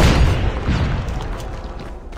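A frag grenade blast in the Call of Duty Mobile shooter game, a loud, deep boom that starts the clip and rumbles on, slowly fading over about two seconds with no speech.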